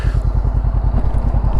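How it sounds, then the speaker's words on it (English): A Honda CB500X motorcycle idles nearby, its exhaust giving a loud, steady, low rhythmic throb with a fast, even pulse. "So I'm just going to leave it running. Hear the exhaust."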